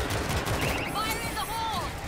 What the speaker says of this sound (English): I got us an auto turret.